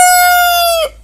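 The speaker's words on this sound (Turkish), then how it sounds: "horozun ismi Ruşen Ali." A single loud, close rooster crow, one sustained bright call lasting just under a second before cutting off.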